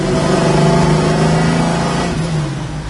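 A 1969 Chevrolet Camaro built Yenko-style runs close by, its V8 giving a loud, deep, steady rumble with a throbbing low tone that eases slightly toward the end.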